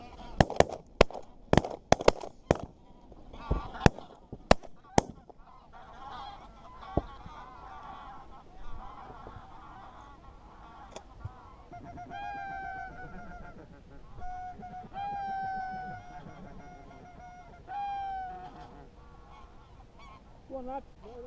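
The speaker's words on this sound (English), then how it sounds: "the geese were coming fairly thick" Several sharp gunshot bangs ring out first during a goose hunt, then geese honk repeatedly, loud and fairly near, their calls overlapping in rising bursts.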